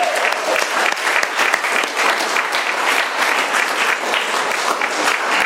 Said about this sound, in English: Let's give Jason a round of applause for that powerful talk.